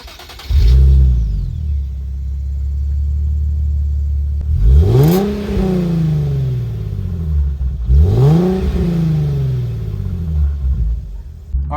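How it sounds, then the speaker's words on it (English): A Nissan 370Z engine cranks and fires, then settles into a loud, deep idle broken by two sharp revs that climb and fall back, heard close up with no talking. "Let's start this 370 up and take it for a test drive"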